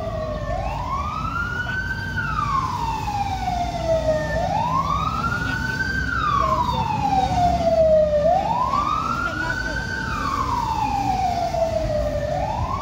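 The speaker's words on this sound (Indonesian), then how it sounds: "Ada pemadam kebakaran lewat." A fire engine's wailing siren rises and falls in long, slow sweeps, loud and close, over the rumble of the large vehicle passing by.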